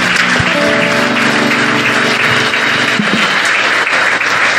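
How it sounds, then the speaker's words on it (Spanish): A church congregation claps for the Lord during a service, a loud, even wash of applause with some instrumental tones sounding underneath early on. "Dele un aplauso al Señor."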